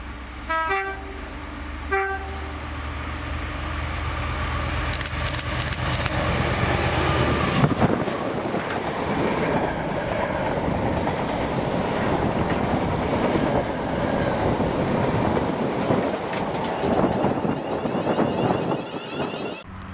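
A Class 66 freight locomotive, 66301, passes on a Newton Junction to Millerhill engineers' service in Scotland. Short horn toots sound first, then a loud, rumbling, clattering pass of wagons fills the rest of the scene.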